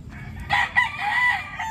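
A backyard rooster crows once, loud and close, a single drawn-out call standing alone over faint low farmyard background.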